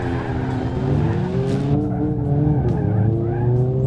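In a racing video game, a car engine drones steadily with shifting pitch and a tire squeal rising over it, loud and continuous with no voices.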